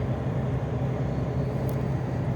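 Steady, continuous road noise from a vehicle cruising along a highway on a morning drive between Truskavets and Velyka Dymerka, a low droning hum with constant tyre rumble and no pauses, heard from inside or near the vehicle.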